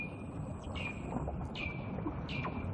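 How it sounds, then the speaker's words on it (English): Weddell seals calling beneath Antarctic ice, eerie descending whistle-like tones repeating three times at a steady spacing over a constant low rumble and a thin high tone. "They're actually the calls of Weddell seals."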